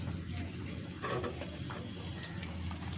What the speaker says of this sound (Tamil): இந்த மாதிரி எல்லாமே போட்டு வறுத்து எடுத்துக்கலாம்.